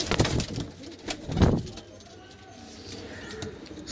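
Madrasi breed pigeons cooing nearby in a couple of soft, low bursts early on, followed by quieter rustling and faint bird sounds.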